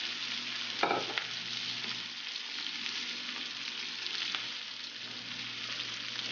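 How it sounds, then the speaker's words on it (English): Peppers, squash and zucchini sautéing over raised heat in a hot pan, a constant dense sizzle with a brief utensil clatter near the start, steady and close with no voices. "Let's add our peppers and our... turn up the heat a little bit"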